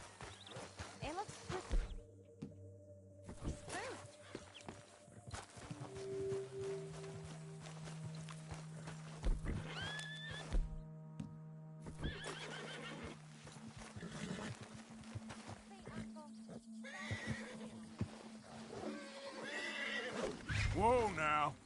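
A horse whinnies loudly amid clopping hooves and animal calls in Red Dead Redemption 2 on PS4, with sustained tones and a voice speaking over the scene.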